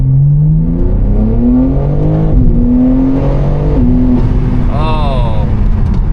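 BMW G80 M3 engine pulling hard through rising gears, a loud close roar climbing in pitch with shift breaks, while a person talks excitedly over it.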